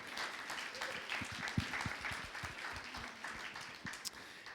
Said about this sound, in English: I think we should give you a round of applause for what you've put together